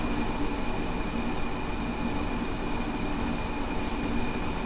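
Roller coaster trains running in RollerCoaster Tycoon Classic: a continuous dense rumble and rattle of cars on track, loud and steady throughout, with no voices.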